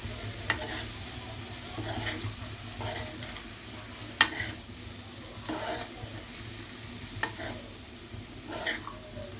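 Raw banana curry with coriander being stirred in a pan, with soft scraping strokes at a steady rhythm over a low, quiet frying sizzle, close by and fairly faint.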